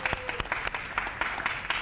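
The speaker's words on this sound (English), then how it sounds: "Please applaud your own self." An audience applauds at a dance-off event, a short burst of dense clapping close by, with a voice talking faintly underneath.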